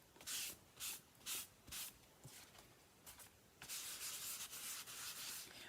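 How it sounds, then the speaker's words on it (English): A clean paper towel buffs watercolor paper in quick, close rubbing strokes: about four separate swishes, then a longer continuous scrubbing hiss, all fairly quiet. "I'm using a clean paper towel now, and I'm just going to give it another quick buff"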